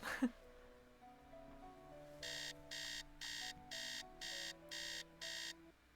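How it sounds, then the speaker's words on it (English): Alarm clock in the video game Nancy Drew: Treasure in the Royal Tower rings in seven evenly spaced electronic bursts over a quiet ambient tone. "Alarm. She's awake at 3 AM."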